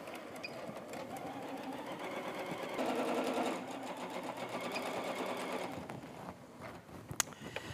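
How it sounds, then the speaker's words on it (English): A sewing machine stitching quilt seams on fabric wedges for a tree skirt, a steady close mechanical whir that rises briefly midway, then runs on with a faint click near the end. "And Erica, I did backstitch every time I started and finished a seam"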